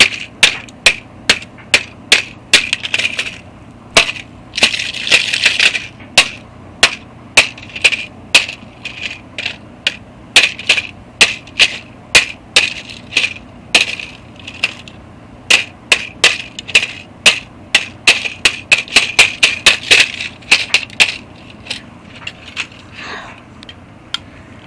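Dozens of sharp, hard hammer hits in quick bursts, pounding on a brittle VHS tape with cracking, rattling impacts, loud and close with brief pauses.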